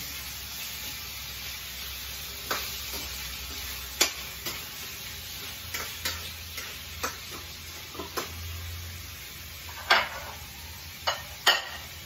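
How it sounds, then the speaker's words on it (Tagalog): Chicken frying in a pan for pineapple chicken adobo, a steady soft sizzle broken by scattered sharp clicks and scrapes of stirring, close and fairly quiet. "lagay na natin itong chicken natin. Kaya haluin."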